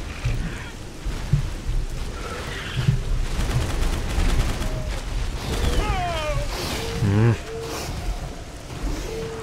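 Gunfire in the dinosaur shooter Primal Carnage: Extinction, rapid crackling shots in a busy fight mixed with growls and effects, with someone talking over the action.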